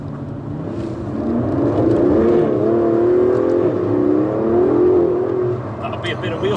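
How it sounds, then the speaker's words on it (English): An Aston Martin DB11 spinning its wheels in first gear on a road drive, with a close engine roar and tyre noise rising and holding under people talking inside the car. "That was quite a bit of wheel spin."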